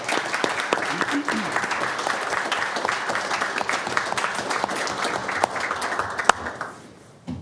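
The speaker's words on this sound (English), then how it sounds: "I think we should give these firefighters a round of applause." Sustained applause from a city council meeting audience honoring firefighters, steady dense clapping throughout that thins out near the end.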